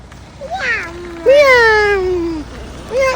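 A voice imitates a cat's meow, one long drawn-out rising and falling 'meow' after a shorter one, close and fairly loud.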